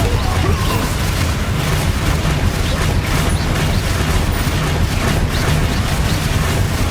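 A Bombarda spell blast in Hogwarts Legacy, part of a loud, dense stretch of booming, crashing game combat noise that runs steadily throughout, with a voice faintly present underneath.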